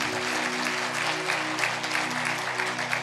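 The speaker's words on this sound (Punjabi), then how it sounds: "ਤਾਲੀ ਮਾਰੀਏ ਜ਼ੋਰ ਦੇ।" Loud sustained applause from a congregation during a Punjabi sermon, with steady dense clapping and a low humming tone running beneath it.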